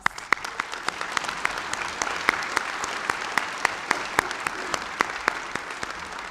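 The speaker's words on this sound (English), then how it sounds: "Can we give them a round of applause?" Sustained applause from a large audience at a high school commencement ceremony, dense steady clapping with sharp individual claps standing out, continuing throughout without talking.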